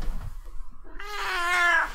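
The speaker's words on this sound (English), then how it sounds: "my cat is also here" A pet cat gives a single drawn-out, rising meow at close range, with a quieter stretch of indoor room noise before it and no talk over it.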